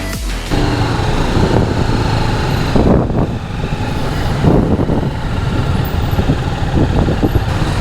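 TVS Apache RTR 310 motorcycle ridden on a road in Thailand, its engine droning steadily and close with wind rush, varying slightly as the bike moves along.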